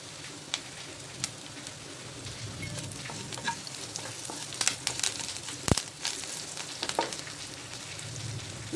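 Asafoetida and a generous handful of curry leaves sizzle and crackle in hot oil for a restaurant-style Soya 65 tempering, a steady frying hiss with scattered sharp pops and light stirring, no talk.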